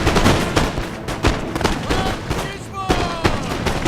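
Musket volleys crackle across a Napoleonic battlefield in Napoleon: Total War, with many overlapping shots popping in ragged succession over a thick roar of combat. Distant booms sound throughout and no clear speech is heard.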